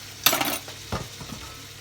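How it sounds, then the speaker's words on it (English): A sharp clatter of utensils against a pan as Nigerian fried rice is fried, followed by softer scraping and stirring sounds with a faint sizzle in the background. "Now I want to start frying the rice."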